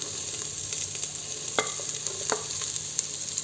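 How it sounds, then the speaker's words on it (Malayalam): Onion and beans frying in hot oil for a vegetable biryani, a steady close sizzle broken by a few sharp spatula scrapes and clinks as they are stirred, with no one talking. "അതൊന്ന് ചൂടായി വരുന്ന സമയത്ത് നമുക്കിതിലേക്ക് സവാള ചേർത്ത് കൊടുക്കാം. അതോടൊപ്പം തന്നെ ബീൻസ് ചേർക്കാം"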